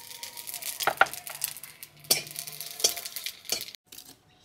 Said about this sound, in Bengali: মাছ ভাজার তেলের মধ্যে ফোড়নে দিয়ে দিচ্ছি রাঁধুনি,